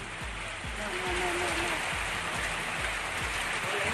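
Heavy rain in Chennai pours down steadily in a dense, hissing wash with a low rumble of runoff and occasional thumps, constant and loud throughout.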